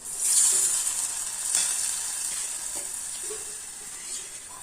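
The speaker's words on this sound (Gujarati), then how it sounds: "હવે આપણે એમાં છાશ એડ કરીશું। છાશ આપણે 2 વાટકા એડ કરીશું।" Buttermilk poured into a hot pan of onion, garlic and chili sautéed in oil, giving a steady sizzle and bubbling hiss that swells at first and then settles, close by with no voices.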